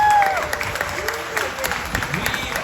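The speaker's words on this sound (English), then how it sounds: "Big round of applause one more time for all the amazing people that put this event on" A convention crowd at a Smallville Q&A panel during a Superman celebration applauds steadily, with sustained clapping and a few cheers, while a voice speaks over it.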